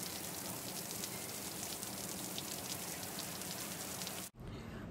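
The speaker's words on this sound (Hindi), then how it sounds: "मैंने सिर्फ अभी निक का एप्पल काटा है और वापस से बारिश शुरू हो गई है।" Steady rain falling, a dense even hiss of drops on surfaces that continues without a break, briefly cut out near the end.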